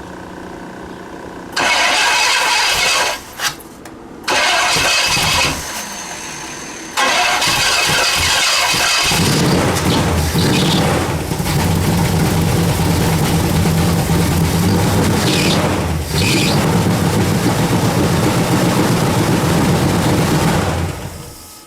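A Pontiac Bonneville engine cranks in a few short bursts, then catches and roars to life, running loud and rough with some revving, close by and with no talking.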